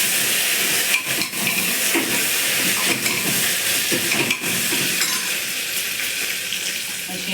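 A paste of ginger, garlic and chili fries in a pan with a steady, loud sizzling hiss, broken by a few sharper crackles and pops, with no talking over it.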